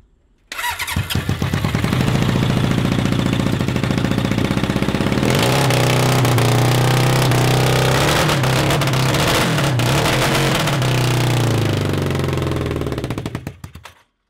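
A 750cc kart engine, freshly fitted with a swapped spark plug, fires up and runs steadily, loud and close, holding a rough idle with revs rising partway through before cutting off near the end.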